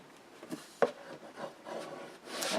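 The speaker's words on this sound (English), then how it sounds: "Burnish that very well, and that one." A paper craft box piece is burnished by rubbing, giving soft, close scraping and rubbing strokes at an uneven pace with one sharper scuff, faint and without speech.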